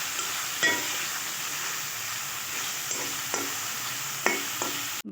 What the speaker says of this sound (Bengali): অল্প একটু পেঁয়াজ কুচি, কাঁচামরিচ কুচি দিব, দিয়ে খুব ভালোভাবে এটা আমরা ভেজে নেব।